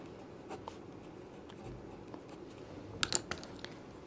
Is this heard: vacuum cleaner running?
no